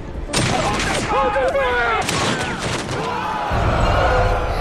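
Chaotic battle noise with bursts of gunfire and shouting voices, loud and continuous, shots overlapping rather than a single clean volley.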